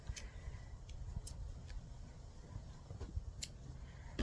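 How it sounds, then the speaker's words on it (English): Scissors snip through crochet yarn while finishing a sunflower coaster, a few quiet, brief clicks scattered over soft background noise, close and faint. "Just cut your yarn."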